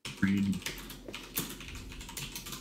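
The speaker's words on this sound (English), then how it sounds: "typing" Computer keyboard keys clatter in quick, irregular bursts of clicks, close to the microphone, with a brief spoken sound near the start.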